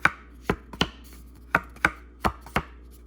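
Thin cardstock of a Garbage Pail Kids tarot card tapped against a surface: seven sharp, close taps in irregular pairs and singles over a quiet background, with no talking.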